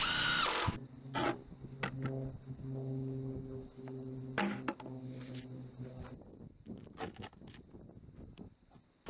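A power drill pre-drilling screw holes for a shed wood floor whirs in two or three bursts, its motor humming steadily, followed by clattering taps and handling noises.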